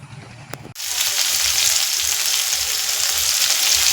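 Bitter gourd fries in a pan at home, a loud, continuous close sizzle that starts abruptly after a moment of quieter room sound and holds steady throughout.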